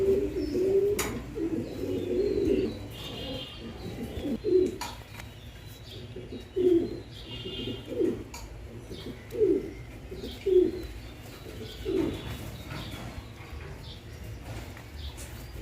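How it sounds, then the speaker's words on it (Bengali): Cream bar German Beauty Homer pigeons, a male and a female, giving repeated low cooing calls at irregular intervals over a quiet background hum, close by with no talking. "ক্রিম বার German beauty Homer, double spangle ঠোঁট, ডাবলি 21 রিংয়ের মেল আর ফিমেল রিংলেস।"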